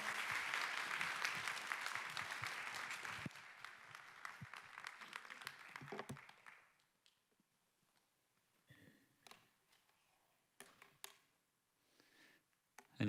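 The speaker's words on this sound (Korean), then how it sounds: "뜨거운 박수로 한번 환영하겠습니다" Applause at a Friday church worship service as a guest speaker comes up to the stage, loud and dense at first, fading after about six seconds into scattered claps and quiet room noise.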